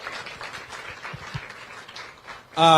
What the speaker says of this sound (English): Let's give another round of applause as he catches his flight.